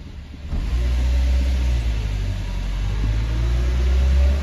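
A car starts off and drives steadily on a front-suspension test, its engine a low continuous hum that holds for several seconds with no talking.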